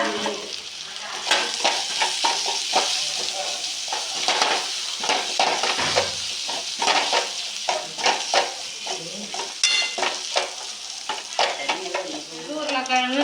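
Beef frying with masala, pepper powder and spices, stirred briskly so a spoon clinks and scrapes repeatedly against the pan over a constant close sizzle.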